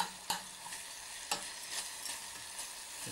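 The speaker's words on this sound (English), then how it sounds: "add your desiccated coconut. And just stir that in." Desiccated coconut stirred by hand into a melted mixture for a pineapple cake: soft continuous scraping and rustling, with a couple of sharper knocks of the utensil against the pan, no talking.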